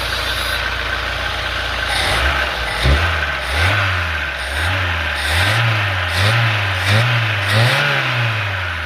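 Car engine with a carburetor fitted with 23-24 diffusers, idling then revved repeatedly in a steady rising-and-falling rhythm, close and loud, with no talking.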